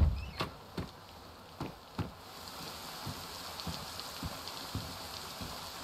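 Steady rain patters across a surface in the DayZ video game, a continuous wash broken by sharp drop-like ticks and thuds, with no talking.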